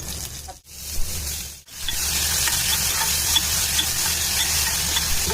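Ginger and curry leaves sautéing for a prawn curry, a steady bright sizzle in a hot pan with two brief breaks early on, then continuous frying with faint stirring scrapes.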